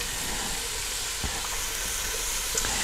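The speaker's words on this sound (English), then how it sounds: "Starting to sizzle. I personally love the smell of onions being sweated down." Onions sweat in a pan for a fish chowder, giving a steady, close sizzle that holds evenly throughout with faint stirring scrapes under it.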